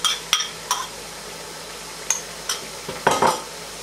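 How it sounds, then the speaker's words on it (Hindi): Minced meat keema frying in a pan as yogurt is stirred in, with sharp spoon clinks against the pan spaced apart and a soft sizzle, ending in a louder burst of scraping and hissing. "तो एक कप जितनी दही डाल रही हूँ मैं इसमें।"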